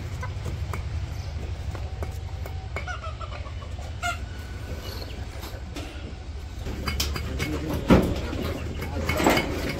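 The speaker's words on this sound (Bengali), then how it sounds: "মুরগি সব দৌড়াদৌড়ি করে কাছে এসে পড়ছে খাবার দিতে দিকে।" Village chickens in a Bangladeshi yard clucking as they crowd toward feed, scattered soft clucks over a constant low rumble, with a louder burst near the end.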